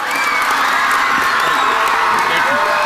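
An elementary school crowd, many children among them, cheers, shouts and whoops loudly and continuously, a dense, sustained roar filling the room.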